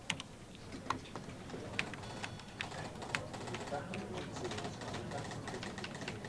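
A journalist keys a news story into a computer terminal keyboard in a busy 1988 television newsroom, steady irregular key clicks running throughout over a constant room hum and faint background chatter.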